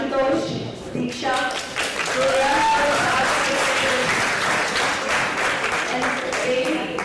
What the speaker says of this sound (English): huge round of applause for these students